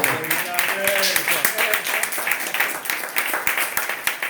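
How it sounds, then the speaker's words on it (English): An audience applauds with dense, continuous clapping at moderate loudness, sustained throughout with some faint voices mixed into the crowd noise. "Let's give that brother a round of applause."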